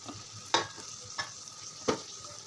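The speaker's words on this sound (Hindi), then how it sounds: "अच्छे से मिक्स कर देंगे इसको" Chana dal being mixed in a pan with a spoon, three distinct scraping strokes spaced evenly against a faint background sizzle.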